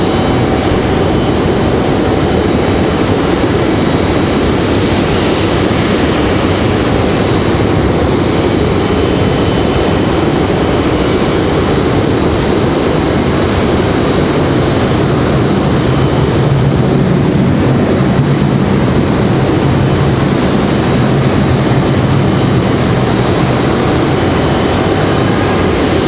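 A Boeing 737 MAX airliner lands at Raleigh-Durham airport, its engines a loud continuous roar heard from a distance, steady throughout with a slight swell of rumble and reverse thrust later on.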